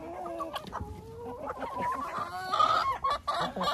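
Chickens kept on a small farm cluck repeatedly at close range, a run of short, varied calls that grows busier and louder toward the end.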